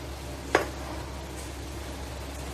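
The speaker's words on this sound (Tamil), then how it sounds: "நல்ல தண்ணி கொதிக்க ஆரம்பிச்சிச்சு" A pan of water simmers with a low, steady bubbling hiss, broken once by a brief clink near the start, as cardamom is added while making rava kesari.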